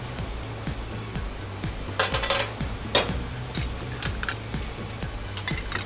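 Roasted lobster heads, leeks and tomato paste stirred in a pot, a spoon scraping and clinking against the metal over a low sizzle, with a few louder knocks and clatters along the way.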